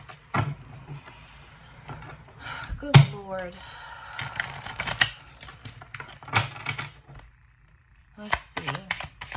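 Tarot cards being shuffled, with crisp, quick papery clicks and riffles in short bursts, under and between casual speech.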